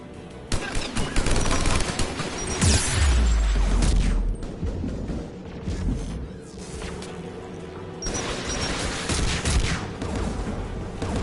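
Anti-aircraft guns firing in the Mass Effect 3 game, loud rapid bursts of heavy gunfire with booming blasts, rising and pausing in waves over a rumbling background.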